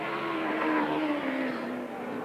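Racing motorcycles roar along a bumpy road circuit at a 1985 Formula 1 road race, engines droning loudly and steadily with a shifting pitch as the bikes pass.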